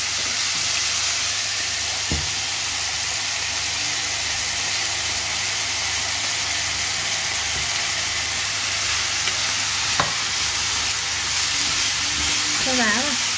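Dry vermicelli stir-fried with seasoning for a vegetarian noodle dish, a steady broad sizzle and hiss running throughout with a couple of sharp utensil knocks, close and continuous.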